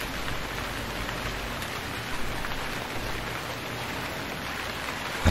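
Steady rain pours in the survival video game Stranded Deep, a dense, even hiss that holds at the same level throughout with no talking over it.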